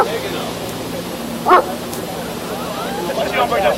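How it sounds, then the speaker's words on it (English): A dog barks once sharply, then gives a burst of yips, over a low background murmur. "Dog's gonna get you."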